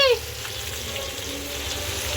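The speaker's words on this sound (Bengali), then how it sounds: "মাছটা ভাজা করছি" Fish fries in a pan with a steady, close hiss and bubbling sizzle that holds for the whole stretch, fairly loud and without talking.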